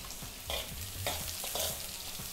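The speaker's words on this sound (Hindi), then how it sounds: "मूंगफली, काजू और दाल काफ़ी रोस्ट हो चुकी है" Peanuts, cashews and dal roast in a pan, giving a close, steady dry sizzle. Spoon stirs scrape through it in short repeated strokes about every half second.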